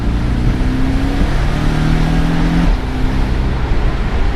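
A turbocharged Porsche 718 Boxster T flat-four with sports exhaust drones loudly and steadily from the cabin, a breathy, booming engine note with a slight pitch rise then shift partway through, no talk over it.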